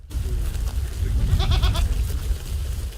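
Goats from a farm in Ivanopillia village, Kramatorsk district, Donetsk region, bleat in a short burst of several quick calls midway through, over steady low rumbling background noise.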